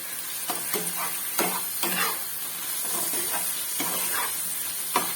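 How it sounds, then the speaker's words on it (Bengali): Paneer tossed with a spoonful of soy sauce frying in a pan, a constant sizzle broken by repeated scraping strokes of a spatula every half second or so, near and fairly loud. "আর 1 চামচের মতো সোয়া সস দিয়ে আবারও একটু ভালো করে নাড়াচাড়া করে নেব। সসটাকে একটু ভেজে নিতে হবে।"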